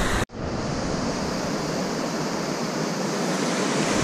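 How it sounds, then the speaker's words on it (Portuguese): Rushing river rapids of turquoise water in the Ojos del Caburgua park near Pucón, Chile, give a loud, steady broadband roar that fills the whole clip after a brief cut at the start. "tá vendo essas corredeiras aí?"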